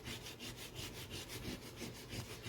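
Paper is rubbed hard to burnish a fold in a little handmade book, making quick, rhythmic back-and-forth scraping strokes close up, about eight to ten passes, with no voices.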